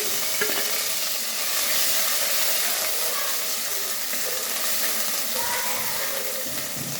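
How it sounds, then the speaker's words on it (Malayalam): Ground fenugreek and ginger sizzle in hot oil as they go into the pan for a fish curry. Bright, steady frying hiss up close, with a few small stirring clicks. "ചൂടായ എണ്ണയിലേക്ക് കുറച്ച് ഉലുവ"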